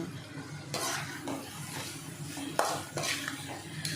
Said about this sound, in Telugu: ఇవన్నీ కలిపి మనం ఫ్రై చేసుకుంటున్నాము మొత్తం బాగా కలిసేలాగా ఫ్రై చేసుకుంటున్నామండి